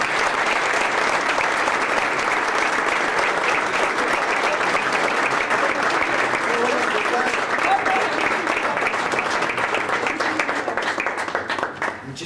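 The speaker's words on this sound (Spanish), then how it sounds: "Por eso te damos un gran aplauso porque mereces eso." Dense, steady applause from an audience at a Mexican Senate ceremony unveiling a senator's portrait, loud and sustained for about twelve seconds and tapering slightly at the very end.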